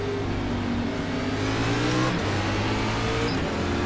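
Simulated NASCAR race car engines in the iRacing game at Nashville Fairgrounds Speedway, droning steadily and loudly as the field builds toward a restart, with layered engine tones rising slightly and a pack of cars humming together without break.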